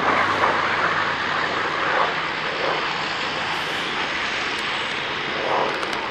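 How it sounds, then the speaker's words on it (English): A powerful Hawker piston-engine aircraft flies at an airshow, its engine a loud, steady, close roar that holds for the whole stretch with no talking. "one of the most powerful piston engine aircraft ever built"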